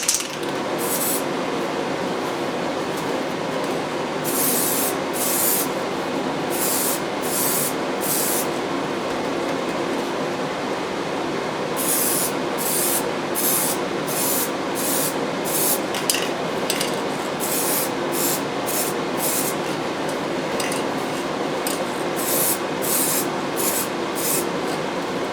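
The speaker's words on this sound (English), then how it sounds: "Now the spraying is complete" Silver rattle-can spray paint hisses onto a clear Lexan body for an Axial SCX10 Honcho RC truck, in repeated close, loud bursts of varying length separated by short pauses, with no voice heard.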